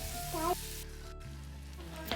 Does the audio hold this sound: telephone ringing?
no